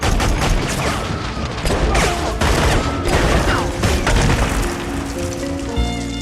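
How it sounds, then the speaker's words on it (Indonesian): A movie gunfight involving a Miami criminal gang brings loud, dense bursts of rapid gunfire and booming impacts, continuous throughout with a brief metallic mechanism near the end. "baku tembak."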